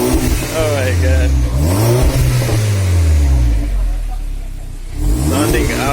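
A VW Golf Mk5 GTI fitted with a new downpipe revs loudly and close up, its engine note climbing and falling in repeated sweeps before a final rev toward the end.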